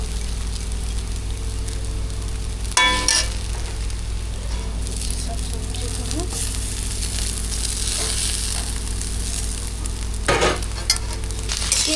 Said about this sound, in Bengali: চাউমিনটা ফ্রাই হয়ে গেছে এবার সবজিগুলো দিয়ে দেবো